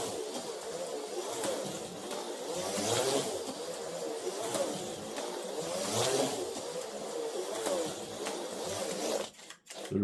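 An Autoworld Datsun 510 X-Traction HO slot car runs around the track with a steady, smooth buzzing whir that swells and fades rhythmically as it laps, close and continuous, with a brief clatter near the end.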